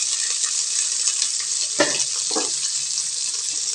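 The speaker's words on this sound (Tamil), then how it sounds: "இப்போ இந்த வெங்காயத்தை இதில் சேர்த்திக்கலாங்க" Shallots and curry leaves sizzle steadily in hot oil with a broad hissing wash, with a couple of brief stirring scrapes partway through and no one speaking.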